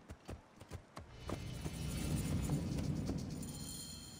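Horse hooves clip-clop in the Egyptian setting of Assassin's Creed Origins, a few distinct hoofbeats at first, then a steadier rumbling gallop with a high tone running over it.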